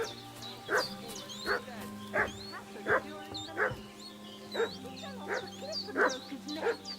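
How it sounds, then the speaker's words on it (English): A dog in the video game Kingdom Come Deliverance 2 barks repeatedly in short, evenly spaced yaps, moderately distant, over a low ambient hum with birdsong in the background. "What's that dog making such a fuss about?"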